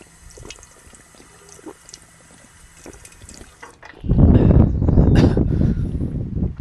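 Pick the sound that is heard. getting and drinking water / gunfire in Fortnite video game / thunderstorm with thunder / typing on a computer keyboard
getting and drinking water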